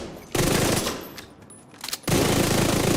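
Rapid automatic fire from an exotic weapon in The Division 2, a dense, loud burst of shots in two long stretches separated by a brief quieter gap, with no talking over it.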